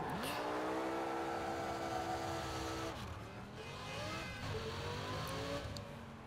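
A car engine drives in Burnout Paradise, revving up through rising gear tones, dropping briefly at a shift, then climbing again, steady and close.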